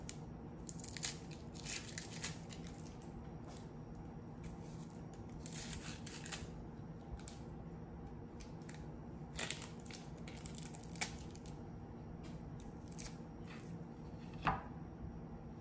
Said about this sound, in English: We're gonna cut off this little stem bit here.